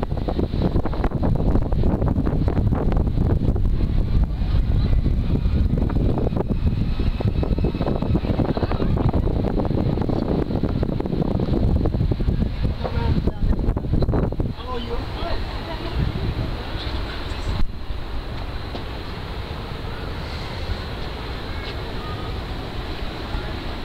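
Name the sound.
strong wind at the top of Blackpool Tower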